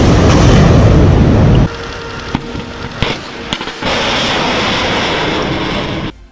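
Cheongung surface-to-air missile launch: a loud, roaring rocket blast that cuts off abruptly, followed by a few sharp cracks and a renewed sustained roar, close and powerful throughout.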